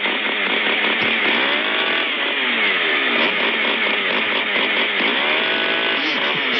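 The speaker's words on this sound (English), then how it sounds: "I'm going to play a chainsaw." A chainsaw revs continuously, its engine pitch rising and falling in a repeated pattern to play the Peter Gunn theme, loud and close with no talk.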